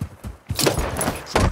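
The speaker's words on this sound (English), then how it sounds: "Switching mags!" A quick metallic rifle magazine reload in Call of Duty: Modern Warfare II, with a couple of rattling clicks and a sliding clack, close and brief, no speech over it.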